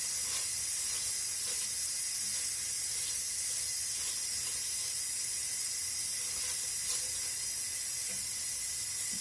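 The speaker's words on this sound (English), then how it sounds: "that's the Instant Pot releasing all the pressure" An Instant Pot vents its pressure in a steady, high hiss of steam that runs unbroken throughout, fairly faint and continuous in a quiet kitchen with no talking.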